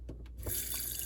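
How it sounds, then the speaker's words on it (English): Tap water runs hard into a sauce pot, a steady close rushing stream that starts after a few brief drips and splashes and then holds loud and even. "Fill that up with water."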